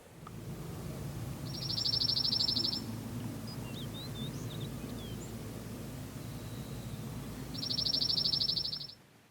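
Black-backed woodpeckers give two short, sharp, rapid chattering rattle calls several seconds apart. The calls are clear and fairly near over a quiet forest hiss, with faint chips between them.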